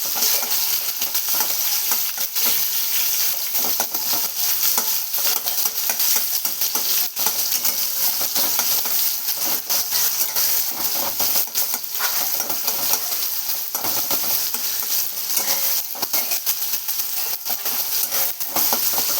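Tomatoes for a drumstick fry sizzle hard in a hot frying pan, a dense, loud, continuous crackle with occasional stirring scrapes, close up and without talk.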